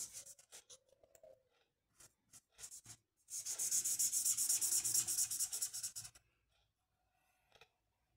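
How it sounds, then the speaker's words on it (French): A coloured pencil is rubbed back and forth to fill in a carrot drawing, starting as short scratchy strokes and then running as a steady stretch of rapid, close, dry scraping before stopping. "je vais finir de colorier ma carotte"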